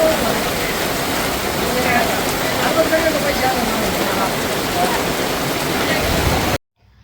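Heavy downpour with strong wind at a weekly market in Rahata during a thunderstorm, a dense, steady roar of rain close by that holds nearly the whole stretch and then cuts off abruptly.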